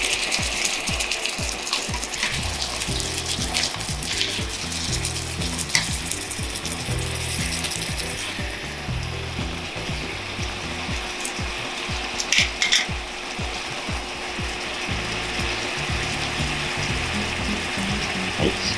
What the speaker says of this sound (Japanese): しっかり沸騰してアルコールが飛んできましたので